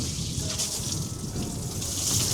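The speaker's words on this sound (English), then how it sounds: "a jolly good soaking of the wall is essential." A garden hose sprays water over a stone wall to soak the mortar, making a steady, close, even rushing hiss that runs without a break and with no voices.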